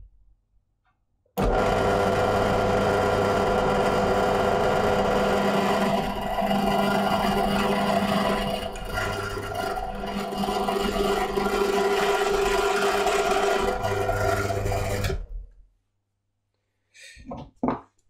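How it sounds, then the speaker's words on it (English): A steady, loud electric drill whir with a grinding edge runs unbroken for about fourteen seconds while drilling through a cockpit simulator panel, then cuts off, followed by brief faint handling noises. "then stop drilling take this out and take it apart and then continue the drilling"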